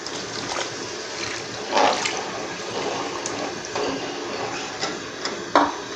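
Tamarind juice pours into melted sugar syrup for an imli and aloo bukhara sharbat, giving a steady close rushing of liquid with a few brief louder splashes.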